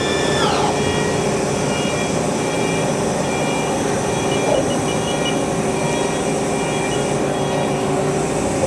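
Haas ST-10 CNC lathe spindle running steadily at 2500 RPM, a continuous loud whirring hum with tonal whine that stays constant throughout, close by and without speech.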